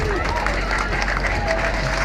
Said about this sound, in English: Can we give some clap for Brufut?